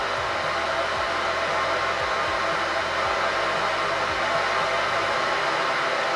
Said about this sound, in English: I'm gonna hit play, you're gonna hear test tone